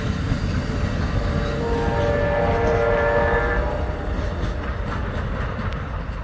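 The westbound California Zephyr passenger train passes close by in Lincoln, Nebraska, a loud continuous rumble and clatter of rolling cars with a faint tonal horn-like whine in the middle.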